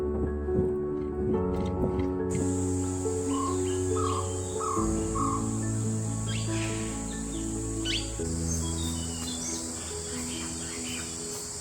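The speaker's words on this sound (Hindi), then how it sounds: "पक्षियों की आवाज धीरे धीरे बढ़ रही थी।" At dawn in Kanha forest, crows caw among other bird calls and chirps over a steady background of insects and low droning hum, the calls scattered and fairly distant throughout.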